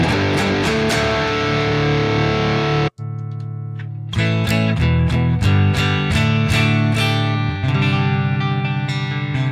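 An electric guitar played through an amplifier on its high-gain channel, with the presence control cranked, produces loud distorted chords and a brief cutout, then chugging, sustained riffs that continue without any talking.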